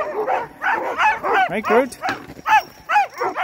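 A dog yips and whimpers repeatedly after a group run, bursts broken by short pauses, close by, with someone talking over the vocalizations.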